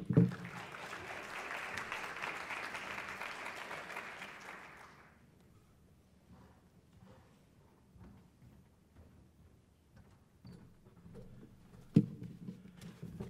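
An audience claps warmly to welcome author David Kirp before his talk on high-quality early learning. The dense applause lasts about five seconds, then gives way to quiet room noise with faint shuffling.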